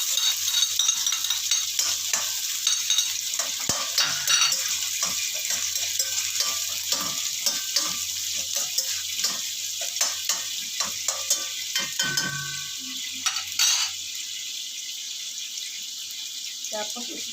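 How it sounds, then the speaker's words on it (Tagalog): Garlic and onion sautéing in a pan for coconut-milk papaya, a continuous loud sizzle with repeated stirring scrapes and clatters throughout, with a voice talking over it at times. "bisa muna natin sa bawang sibuyas"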